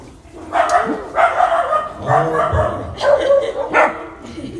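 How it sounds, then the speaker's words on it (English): A pet dog barks repeatedly in a series of loud, close barks with short yips spaced a second or so apart, some whimpery, over a faint room background. "That is my dog."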